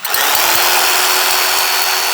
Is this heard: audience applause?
no